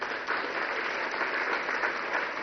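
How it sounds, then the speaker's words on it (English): Steady, dense clapping from a hall audience at an event in Shillong, sustained and even throughout with no voices over it. "Please clap your hands."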